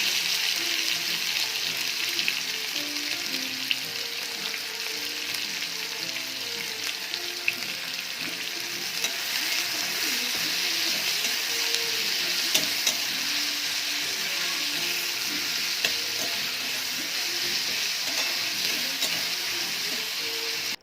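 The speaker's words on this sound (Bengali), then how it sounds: "এবার দিয়ে দেবো পেঁয়াজ। পেঁয়াজগুলো লাল লাল করে ভেজে নেব।" Onions frying in oil over caramelized sugar for a home-style chicken curry, a continuous close, loud sizzle with occasional small clicks of stirring, no voices.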